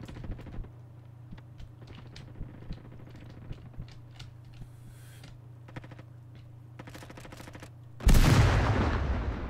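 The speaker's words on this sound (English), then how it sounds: "Oh, I blew myself up." Sharp rapid gunfire crackles in Roblox over a steady low engine-like drone, then a loud, close explosion bursts in and rumbles on as it slowly decays.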